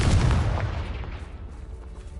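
The Confringo blasting curse from Harry Potter goes off as a single loud, deep explosive boom. Its rumbling tail fades away over the next two seconds, and no voices are heard.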